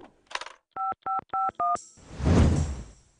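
Four short, evenly spaced telephone keypad tones, each a steady dual-pitch beep, then a burst of noisy rustle.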